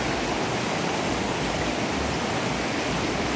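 Stream water flowing steadily past a campground, a continuous broadband rush with no breaks, close and fairly loud with nothing else standing out.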